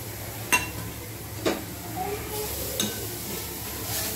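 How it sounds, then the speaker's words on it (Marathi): A quarter kilo of beetroot stir-fry with coarsely crushed peanuts is mixed in a pan: soft scraping stirs, three sharp spoon knocks against the metal, and a faint sizzle underneath, all fairly quiet. "आणि भाजी छान मिक्स करून घ्यायची"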